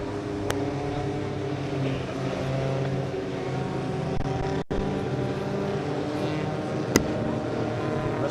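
A pack of Volkswagen Challenge race cars streams past on the circuit, a steady layered engine drone with sustained tonal whine from several cars together, heard at moderate distance without a sharp single pass.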